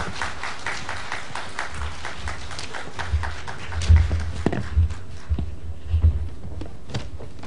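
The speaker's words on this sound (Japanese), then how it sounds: "皆様どうぞ拍手をお送りください" An audience applauds at the Kai Forum 2015 in Tono, Iwate: steady, dense clapping fills the room, with a few louder low thumps standing out in the middle.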